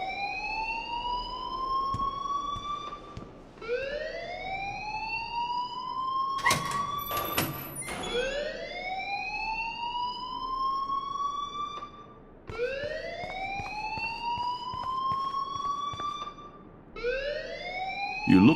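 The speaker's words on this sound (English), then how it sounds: "please turn off that alarm since that's your job" A fire alarm in the Life is Strange video game wails in loud, repeating rising sweeps about every four seconds, sounding continuously with a brief sharp clatter partway through.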